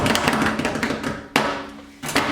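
A rapid drum roll imitated by tapping on a surface, a dense run of quick close taps and thuds that cuts off, then starts again after brief pauses.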